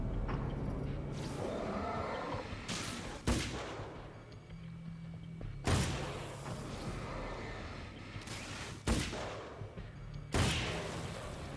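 Gunfire in the video game Alan Wake's American Nightmare: several sharp, loud gunshot bursts spaced irregularly over a dense, rumbling game soundscape.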